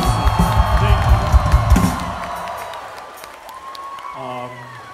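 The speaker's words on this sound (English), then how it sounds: "give yourselves a round of applause" A concert crowd in Dallas claps and cheers loudly, the applause fading out over a couple of seconds into quieter murmurs and a few whoops.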